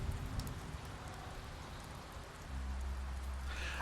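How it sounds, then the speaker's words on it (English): Steady rain in the video game The Wolf Among Us, a dense, even hiss of falling drops that swells slightly louder toward the end. "Let me just stroll over in the rain."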